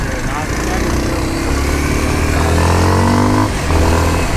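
Kawasaki KLX motorcycle ridden off road, its engine droning steadily with rising and falling pitch throughout, close and loud, with talk over it.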